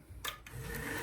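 Short rasping strokes of 400 grit sandpaper rubbing a hog splitter part during restoration, two or three close scrubbing passes over a steady background hum.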